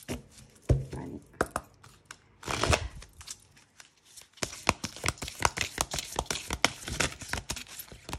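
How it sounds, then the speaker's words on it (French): A deck of oracle cards is shuffled by hand and a card is drawn: scattered soft slaps at first, then a dense run of quick, crisp riffling flicks, close and fairly quiet, with faint voice-like sounds early on. "Donc on va se tirer une petite carte."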